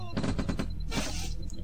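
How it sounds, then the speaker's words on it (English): Tank crushing sandbags in the video game Command and Conquer: Red Alert, heard as a rapid run of crunchy bursts followed by a longer, harsher burst against steady game background noise. "That's the sound of sandbags being crushed."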